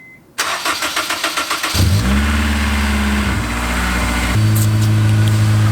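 A project car's engine, just reassembled with its camshafts timed, cranks with a rapid rhythmic chugging, catches, and roars up into a loud rev before settling into a steady, throaty idle.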